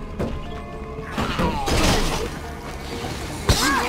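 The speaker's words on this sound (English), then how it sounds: "What are you smashing on?" Smashing and crashing in State of Decay 2: scattered thuds and shattering impacts, with a sharp hit near the end, and no speech.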